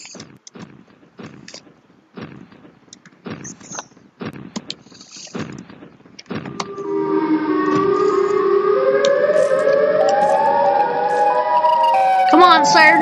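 The Siren Head creature in a video game lets out a loud, sustained wailing siren tone with sliding pitch, starting partway through after a stretch of broken game sounds and continuing steadily to the end.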